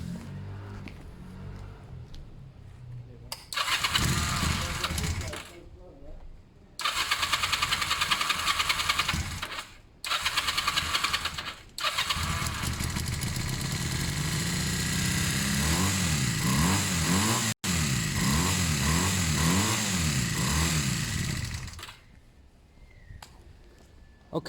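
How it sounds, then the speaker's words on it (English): A Honda CB250 Nighthawk motorcycle engine with fouled spark plugs cranks in bursts, sputters, then catches and runs with a rough, throbbing idle, cutting out briefly before stopping; loud and close. "It should start up and it should just go back to idling"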